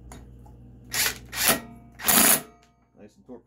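A bolt is torqued down to spec on a small engine with a few quick mechanical ratcheting bursts at close range, then softer clicks, and someone speaks briefly.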